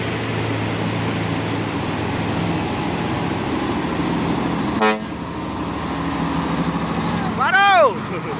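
Traffic noise from a road where a trailer truck is working uphill, with a steady low engine rumble and passing-vehicle wash. A brief honk comes near the middle, and a louder, rising-and-falling horn blast sounds near the end.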